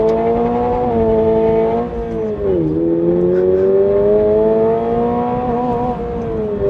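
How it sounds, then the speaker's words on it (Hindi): A 2023 Toyota GR86 Limited Edition in track mode makes a hard launch, its engine revving loud and steady and close by, the pitch dipping briefly and then climbing again through the rev range, with no talking. "थोड़ा सा हार्ड लॉन्च हुआ था, व्हील स्पिन हुए थे"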